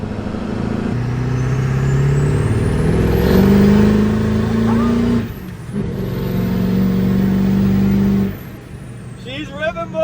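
A race-tuned 7.3 Powerstroke diesel truck roars hard through rising gears on a pull, loud and close from inside the cab, with a brief drop between shifts and a whine over the engine.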